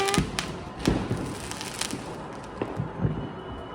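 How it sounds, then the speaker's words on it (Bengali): Diwali firecracker shells bursting all around at night, a scatter of dull distant thumps and pops spread unevenly over a steady outdoor background. "চারদিকে খালি সেল ফাটছে"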